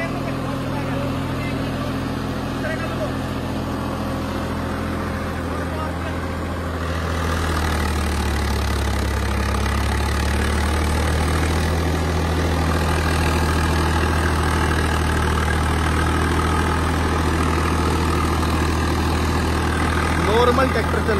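A Swaraj 855 tractor runs steadily while pulling a 9-foot rotavator through soil, a loud continuous low engine drone with a deepening tone partway through, and someone talks over it.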